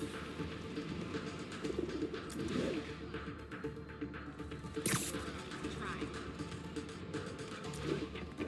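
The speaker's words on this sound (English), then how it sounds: "One of Howard's pigeons." A pigeon coos in the video game Marvel's Spider-Man, soft repeated low calls over a busy city-like game background with a brief sharp noise midway, moderately faint.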